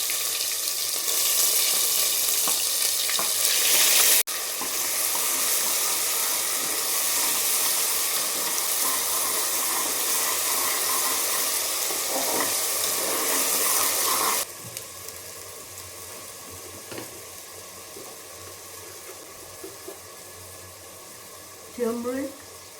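Asafoetida and a fried masala paste hit a hot pan for a jackfruit curry, producing a loud, continuous hissing sizzle that eases slightly partway through, with a few faint utensil clinks.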